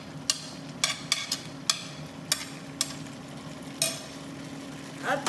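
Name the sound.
spring onions added to a pan, frying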